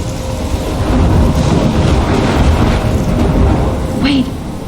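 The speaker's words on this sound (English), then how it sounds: "I'm trapped in a storm?" A roaring thunderstorm in the video game Life Is Strange, with heavy rumbling wind and rain sustained at high volume and a brief whooshing gust near the end.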